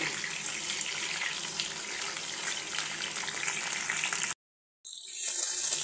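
Pointed gourd (potol) slices frying in oil in a pan without salt, a steady broadband sizzle running close and continuous, briefly cut off by a short gap, then resuming with a brighter, harsher crackle.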